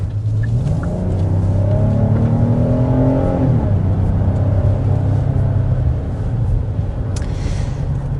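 A 2027 Kia Telluride or Hyundai Palisade SUV V6 engine revs and accelerates with a smooth, refined low rumble that rises and then settles into a steady drone, close by.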